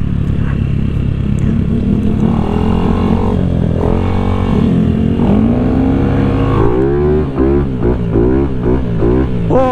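A Honda ADV 150 scooter hums steadily while being ridden, its small engine note rising and falling with the throttle under continuous wind and road noise, with a few quick revs toward the end.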